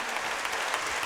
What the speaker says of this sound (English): Chrissy, give her a round of applause.